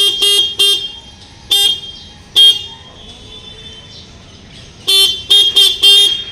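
The electric horn of a Honda Activa BS6 scooter sounds in loud, close beeps: a quick cluster of short toots, two single honks, then a final burst of four, with near-silence between.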